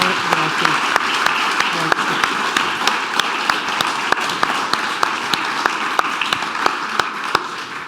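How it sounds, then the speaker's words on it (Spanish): An audience at a film talk applauds filmmakers with steady, dense clapping that holds at an even level for about eight seconds, with sharper individual claps standing out in the crowd noise. "me gustaría pedir un gran aplauso para Arturo Ripstein y Paz Alicia García Diego"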